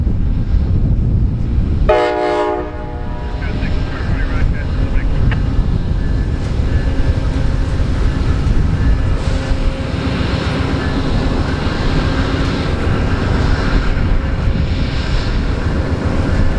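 Amtrak passenger train pulling out of a station in Rochester, New York, with a brief horn blast near the start, then steady, loud rumbling and rolling rail noise close by throughout.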